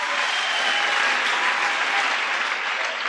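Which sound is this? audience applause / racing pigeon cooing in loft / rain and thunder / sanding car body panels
audience applause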